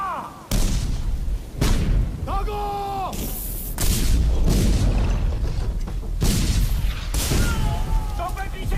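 Repeated heavy booms of cannon fire, several loud blasts spaced irregularly, with shouting voices and clanking mechanisms in between.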